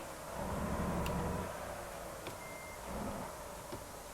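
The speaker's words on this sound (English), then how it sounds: "Whoa, I just put the truck into reverse." Truck reversing alarm from American Truck Simulator, repeating electronic beeps in a steady rhythm over a low engine hum, fairly faint with no talking.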